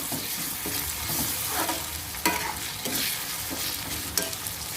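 Ginger garlic paste fries in a pan after onions for a crab and sorrel curry, a steady loud sizzle broken by a few sharp stirring scrapes and clinks, with no talking.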